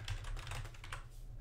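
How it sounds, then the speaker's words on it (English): Typing on a computer keyboard: soft, quick, uneven clicks of keys pressed in short bursts, faint and close by, with no talk. "But I imagine you can hear me type on the keyboard."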